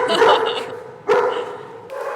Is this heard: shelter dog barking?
yes